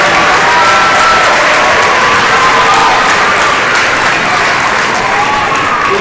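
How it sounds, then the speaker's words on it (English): Loud, sustained applause from a large crowd at a graduation ceremony, with cheers and whoops mixed in, filling the whole stretch without letting up. "How about a special round of applause from everyone"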